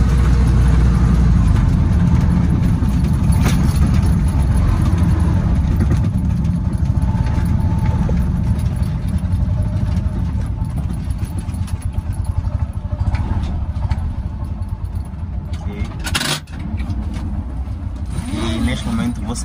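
A three-wheeled motorcycle taxi, a txopela, rumbles through traffic on a Maputo avenue with a loud, constant engine drone and road noise throughout, and a voice talks over it.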